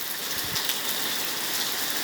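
Heavy rain pours steadily during Storm Mulan at Wang Krachae in Trat province, Thailand, a dense, close, unbroken hiss of drops on surfaces with no voices.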